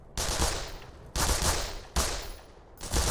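Gunfire in the video game Black Mesa: four loud bursts of rapid automatic shots, each about a second long, separated by brief silences.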